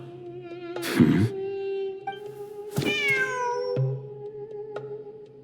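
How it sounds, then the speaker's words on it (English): Meowing from a cat in Genshin Impact, during ruins exploration in the desert sands: two clear, loud meows with rising and falling pitch, plus a third shorter call near the end, all over a steady game music drone. "Wait, there it is! The cat!"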